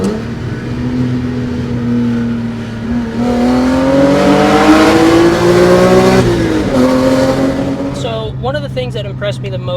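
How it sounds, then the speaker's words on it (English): A modified E46 BMW M3's S54 engine rises and falls through revs with blips on cruising downshifts, loud and close, with a voice briefly talking near the end. "just a couple of cruising downshifts, the S54 sounds fantastic"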